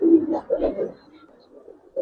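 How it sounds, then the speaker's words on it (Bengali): Giribaz racer pigeons, including a large silver-necked male, give a few soft, throaty coos in short bursts, close by, with a brief pause before another coo at the end. "দুইটা কবুতর দেখেন মাশাআল্লাহ।"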